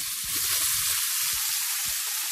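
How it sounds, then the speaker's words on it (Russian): Steady loud sizzling of zucchini frying in hot oil in a pan, with low scraping knocks from stirring. "И помешивая, обжариваем до золотистого цвета."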